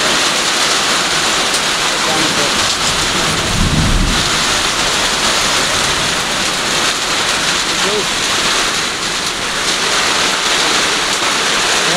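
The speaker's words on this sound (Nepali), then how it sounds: "मोटो पानी पर्छ। मोटो पानी पर्यो।" Heavy rain with a windstorm in Kailali, Nepal, a loud dense roar of pouring water mixed with gusty rushing, steady and close throughout, with a brief low rumble near the middle.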